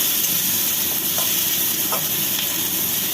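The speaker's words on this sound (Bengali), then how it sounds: "এবার আমি দিয়ে দেবো একটু অল্প রসুনের পেস্ট, দিয়ে আবার একটু নাড়বো যাতে কাঁচা গন্ধটা রসুনের চলে যায়" Garlic paste goes into potatoes, tomato and onion frying in a pan, giving a continuous close sizzle with faint scraping stirs breaking through now and then.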